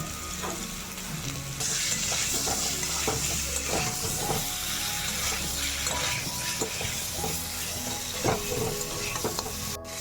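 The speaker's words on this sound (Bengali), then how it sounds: "আলুগুলোকে আমি একটু নুন আর হলুদ দিয়ে ভেজে নেব" Potato pieces frying in oil with salt and turmeric for a biryani, a steady loud sizzle with bursts of spatula stirring and scraping against the pan throughout, no talking.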